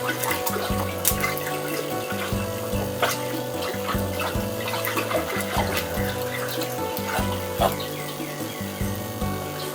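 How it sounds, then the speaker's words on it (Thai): Water and brown sugar stirred together in a container, a steady watery swishing and sloshing that runs continuously and fairly loud close by, with no talking. "กวน ให้กับให้ส่วนผสมระหว่างน้ำกับน้ำตาลทรายแดงเข้ากัน"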